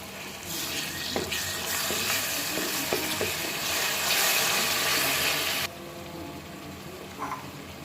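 Onions fry in a pan for a home-style chicken roast, with a bright steady sizzle and a few spatula clacks that cut off abruptly, leaving a quieter simmering hiss.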